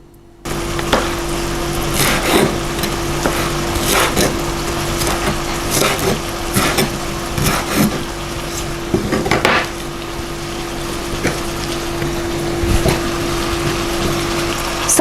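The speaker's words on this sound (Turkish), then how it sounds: "Bunları jülyen ince ince doğrayacağım şimdi." A knife slices bell peppers into thin julienne strips on a cutting board, giving irregular crisp taps and crunchy chops over a steady low hum in a kitchen.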